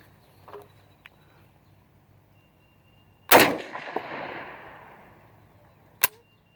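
A Tanker M1 rifle fires outdoors in prairie dog country: one loud, sharp report with a long rolling echo that fades over a couple of seconds, then a single brief, sharp crack a few seconds later.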